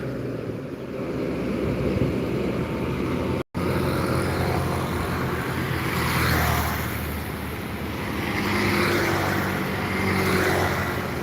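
A tanker truck passing on a road, a steady broad engine and tyre rumble that swells and eases gently as it goes by, close and fairly loud throughout with no voices.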